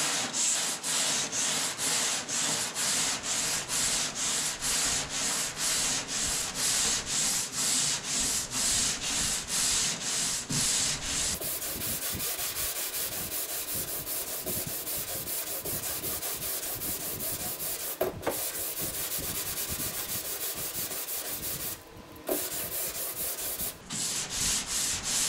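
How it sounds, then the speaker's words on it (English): An 80 grit sanding board sands Bondo body filler in steady, close back-and-forth rasping strokes, fast and rhythmic at first, then longer and more even, with no talk. "I've got 80 grit on my board here. I'm going to start sanding this down"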